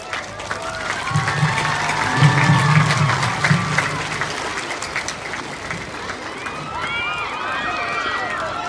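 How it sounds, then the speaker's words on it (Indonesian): Crowd at a 17 August flag ceremony claps and cheers, a rough outdoor burst of applause mixed with shouting and talk, fading toward the end. "Tepuk tangan."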